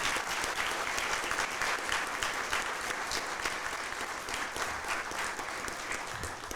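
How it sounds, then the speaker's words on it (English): Audience applause for Bree Barron at a Chain of Survival event, a steady, full round of clapping from a sizable crowd lasting throughout at moderate distance, with no talk over it. "If we could give her a round of applause."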